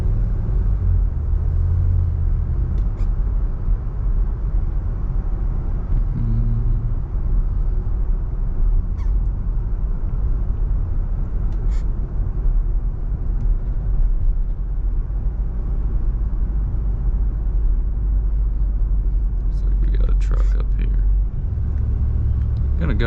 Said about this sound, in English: Go ahead and give it a nice quarter to half throttle here. Very smooth acceleration.